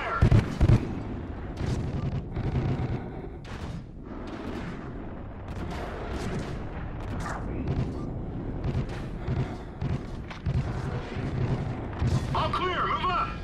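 Gunfire and explosions from the video game Call of Duty Ghosts crackle and boom continuously in a dense battle mix, with shouted voices over the fighting.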